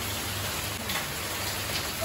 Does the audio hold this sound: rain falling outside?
yes